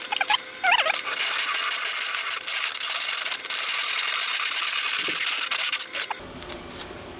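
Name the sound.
handsaw cutting insulating firebrick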